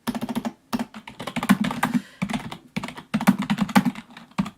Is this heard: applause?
no